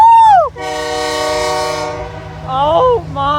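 A CSX ethanol train led by Canadian Pacific locomotives sounds its horn nearby, a long sustained chord blast followed by shorter bending horn notes, with a brief excited voice at the start.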